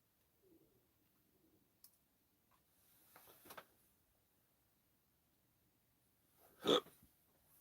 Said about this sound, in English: Hiccups. Not on purpose